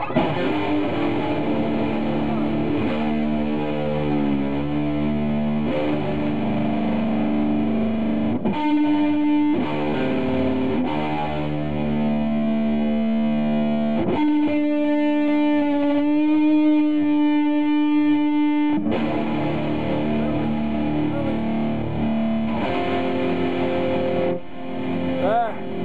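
A BC Rich Bich electric guitar rings through heavy distortion effects, sustained chords and single notes shifting in thick, buzzy layers, loud and close throughout.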